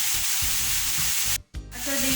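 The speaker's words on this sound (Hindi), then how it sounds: "ये फ्राई हो रही है" Chicken sizzles loudly in a hot pan for home-made chicken shawarma, a steady close frying hiss that cuts out briefly near the end before returning, with no talking.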